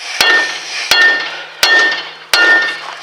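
Four sharp metallic hammer strikes on a Ford Focus steering knuckle to loosen the ball joint, evenly spaced about three-quarters of a second apart, each ringing briefly before the next.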